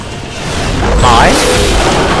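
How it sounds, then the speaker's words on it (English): Explosions boom through a shooter video game, a loud low rumbling blast that swells and lingers alone, with a brief sweeping mechanical whine over it. "Boom! Explosions!"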